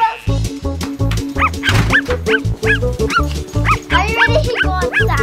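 A puppy barks repeatedly in quick, rhythmic yips close by, with some whimpering tones, loud and steady through the stretch.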